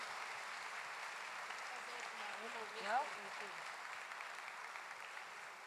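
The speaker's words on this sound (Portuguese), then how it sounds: "Junico Antunes, uma salva de palmas." Audience applause at a business summit after a talk by a company CEO, a steady broad wash of clapping with a brief voice rising over it midway.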